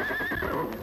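A horse lets out a single loud, close whinny, its high wavering cry rising and falling over a brief moment with no talk.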